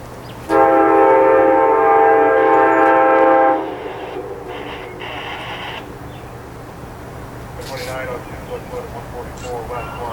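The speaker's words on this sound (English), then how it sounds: "The horn being used on the Amtrak Genesis today is a Nathan's K5LA" An Amtrak Genesis locomotive sounds a Nathan K5LA horn in one loud, sustained, chord-like blast of about three seconds, then rumbles past with rail noise and a few shorter tonal bursts, with a voice speaking faintly.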